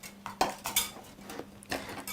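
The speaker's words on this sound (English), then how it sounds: "Keep it all contained inside the bottom of the pot and keep on chopping with the blades pointed down." Kitchen scissors chop parsley inside the bottom of a pot, producing sharp metallic clinks and taps against the pot at an irregular pace, close and clear, with no voices.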